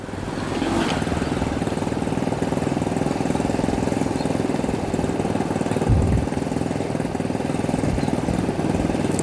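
A motor boat engine drones loudly and continuously, a constant low mechanical hum with a brief rumble near the middle, near Taal Volcano.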